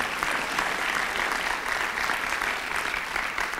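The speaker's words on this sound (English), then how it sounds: "can we give them a round of applause?" Steady applause from an audience at a university convocation, honoring classmates seated in the front row; dense, continuous clapping at moderate loudness throughout.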